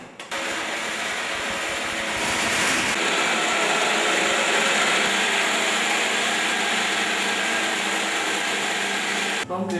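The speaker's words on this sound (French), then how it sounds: "Les fruits ainsi découpés sont mis dans une bassine. Il faut à présent les broyer." A machine crushes cut fruit for juice, making a loud, continuous whirring and grinding roar that runs nearly the whole time and swells slightly midway before cutting off at the end.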